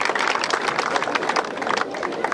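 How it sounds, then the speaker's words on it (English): Steady round of applause from a large seated audience at a swearing-in ceremony, dense continuous clapping filling the room at a fairly loud level with no clear voices over it. "they deserve a round of applause from us in appreciation of that"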